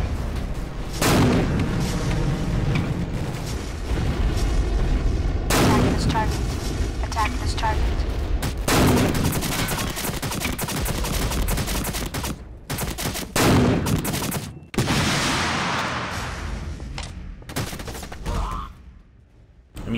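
Mortar fire in the Empires Source mod game, with repeated booming blasts and crackling explosions, some heavy and some lighter, arriving at irregular intervals through the stretch, under occasional voices.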